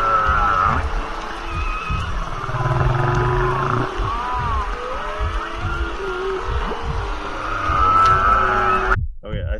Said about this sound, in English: a humpback whale. Very large animals, very slow heartbeats.